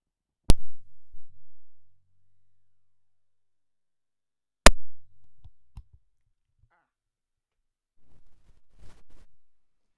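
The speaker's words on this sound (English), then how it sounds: "So I'm going to change the mic over." Two sharp thumps from a microphone being handled, each followed by brief rustling and knocks, then faint fumbling noises near the end.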